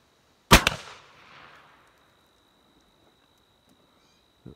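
A single muzzleloader rifle shot on a whitetail deer hunt rings out as one sharp, loud blast, then trails off into a decaying rumble over about a second and a half before quiet returns.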